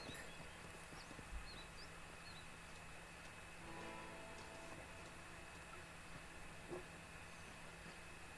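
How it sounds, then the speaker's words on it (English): Horse hooves clopping at a walk in the Western video game Red Dead Redemption, faint and steady over a low ambient bed, with a few sparse brighter ticks and no talk. "I'll get off my horse here,"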